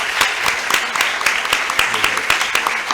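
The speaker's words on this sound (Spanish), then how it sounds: "Le damos un nuevo aplauso" An audience at a talk gives a welcoming round of applause, with loud, close, fairly even hand claps that continue steadily for a few seconds.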